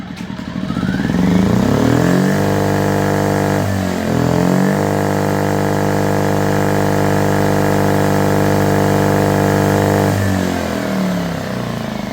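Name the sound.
Firman W2000i inverter generator engine running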